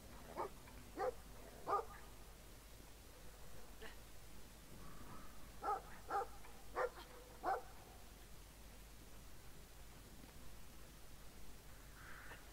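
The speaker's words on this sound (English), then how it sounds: "That's a dog." A dog in the video game Brothers: A Tale of Two Sons gives a series of short, sharp barks in scattered bursts against a quiet outdoor ambience, then falls silent.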